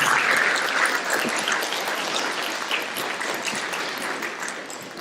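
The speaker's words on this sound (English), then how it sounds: "Y'all give one more round of applause" Round of applause from a school board meeting audience for a junior high orchestra, a broad wash of clapping that starts strong and slowly thins over several seconds.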